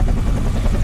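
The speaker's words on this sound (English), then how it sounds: "I'm flying a helicopter, dude." A Sikorsky UH-60 Blackhawk helicopter flies in Flight Simulator X, its rotor chop a loud, steady, close thrumming that fills the whole brief stretch on its own.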